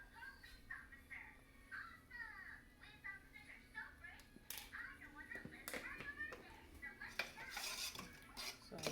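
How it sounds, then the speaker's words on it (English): Carrot juice mixed with vanilla and ground cinnamon in a kitchen, giving soft clinking and scraping of a utensil against a container. A voice talks over the faint stirring throughout. "so I'll try and mix it."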